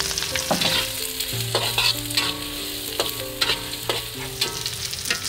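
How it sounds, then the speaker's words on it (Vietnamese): Shallots and minced garlic fry in hot oil with lemongrass, a steady close sizzle with frequent stirring scrapes and clinks of the utensil against the pan throughout. "Tiếp theo là hành tím với tỏi băm."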